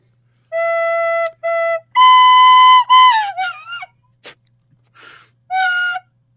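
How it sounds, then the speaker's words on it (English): Tin whistle played in short, bright sustained notes, a few held tones and a bending slide, with pauses between phrases, close and fairly loud with no talking. "this is not a recorder; it's a tin whistle"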